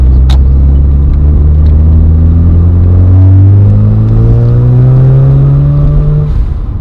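A 1991 Mazda RX-7 Turbo II with a turbocharged twin-rotor engine accelerates hard from inside the car, a loud steady drone that climbs smoothly in pitch through the gear, with no talking.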